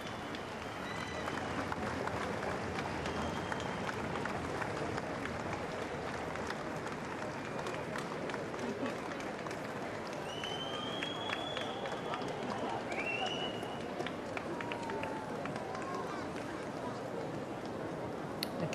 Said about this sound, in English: plenty of clapping